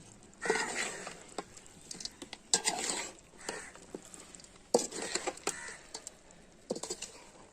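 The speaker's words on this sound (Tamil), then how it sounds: "நல்லா ஒரு கிண்டி விட்டுடலாம் அடிப்பிடிக்காமல் இருக்கிறதுக்கு" A spoon stirs chicken uppu kari in a pot in short bursts of quiet scraping and clattering with brief pauses between, near but soft.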